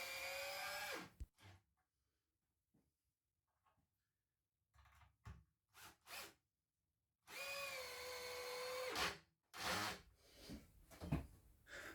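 Power drill driving 70mm screws into a cabinet above a mitre station, with two loud whirring bursts at the start and near the end, separated by quieter knocks and short handling sounds.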